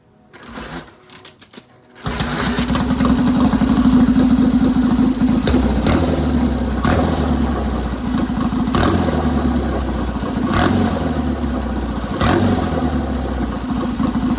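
After a few soft clunks, a 1967 Triumph Bonneville Bobber motorcycle engine fires and settles into a loud, close, steady idle. The throttle is blipped now and then, swelling the throb at regular intervals.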